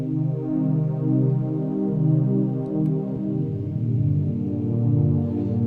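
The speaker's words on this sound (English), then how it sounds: "So I've got this one called Atmo Pad, and it sounds like this." An Atmo Pad synthesizer pad in Logic Pro X swells with a warm, low, throbbing sustained tone, pulsing gently in slow waves, steady and moderately loud with no voices.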